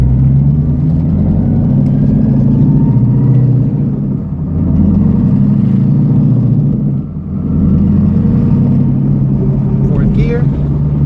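A supercharged car engine fitted with a VMP TVS supercharger lugs at very low RPM while driving, giving a steady deep rumble that dips briefly twice, with no voices.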